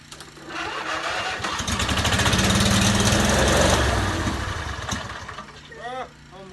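A small lawn mower engine cranks, catches and runs loudly, its rough mechanical roar swelling and then dropping away near the end, close by with a brief bit of talk after it.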